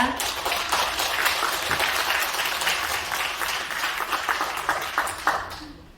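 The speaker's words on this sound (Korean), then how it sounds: "다시 한번 박수 부탁드립니다" Sustained applause fills the space, many hands clapping steadily and loudly, then dying away abruptly at the end.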